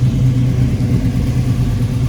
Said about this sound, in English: I'll give it a couple revs so you can hear it.